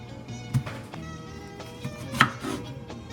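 Knife chopping green plantains into slightly thick slices on a cutting board for tostones, a few sharp taps spaced irregularly over a couple of seconds, close and fairly crisp.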